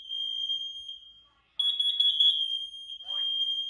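A combination smoke and carbon monoxide alarm under test beeps with a loud, steady, piercing high tone that holds almost throughout, dropping out briefly once and coming back, while a person talks faintly underneath.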